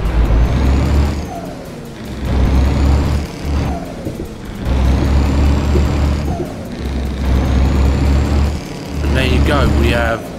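A heavy truck engine sound mod in Euro Truck Simulator 2 on Truckers MP rumbles and revs in four long surges, each followed by a hissing release between gear changes, loud and close.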